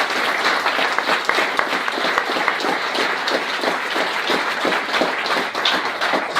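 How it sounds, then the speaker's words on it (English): A crowd at a security conference meetup claps in sustained, dense applause, loud and close, continuing evenly for several seconds without speech. "Can we have a round of applause for Ken and Liam again, please?"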